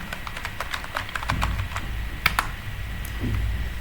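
Fingers tap out a username, password and captcha on a computer keyboard in a bookkeeping software login, giving uneven bursts of close, crisp key clicks with short pauses between them.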